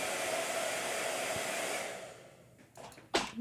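A blow dryer runs loudly and steadily for about two seconds, then shuts off and fades, followed by a few brief rustles and knocks nearby.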